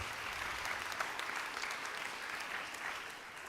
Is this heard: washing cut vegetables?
no